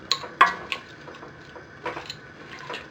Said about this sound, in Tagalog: Hahaluin lang natin to para mag-mix dun sa ibang mga ingredients.